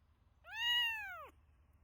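A cartoon cat gives a single clear, drawn-out meow that rises and then falls, close and alone over a faint low hum.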